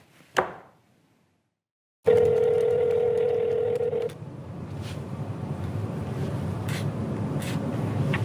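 Telephone dial tone from a played recording of a phone call, a steady tone cut off by a sharp click, then a low line hiss with faint brief dialing beeps and clicks.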